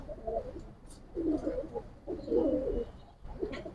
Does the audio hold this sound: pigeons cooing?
yes